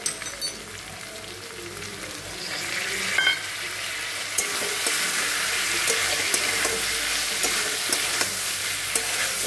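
Cauliflower fries with spices in a pan, giving a steady close sizzle with occasional stirring scrapes and clicks, loud and continuous with no talking.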